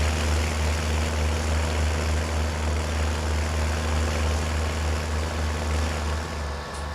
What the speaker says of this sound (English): The baler is pushing this work tractor to the limits, I think. So the engine is permanently on high RPMs to try and keep up.